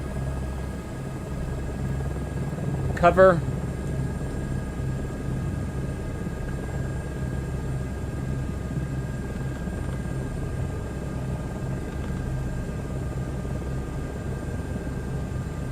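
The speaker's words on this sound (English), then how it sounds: "And there goes the engine sounds again." A helicopter engine runs in Microsoft Flight Simulator 2024 during a UK flight, a steady low rumble and whine throughout, with a brief clattering burst near the start and one short spoken word.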